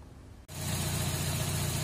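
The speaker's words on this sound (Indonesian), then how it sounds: "ini mesin sudah kita coba kembali dan mesin berjalan seperti semula, normal" A Toyota Corolla engine with its spark plugs just reinstalled starts and settles into a steady, loud idle, running alone after a brief quiet moment.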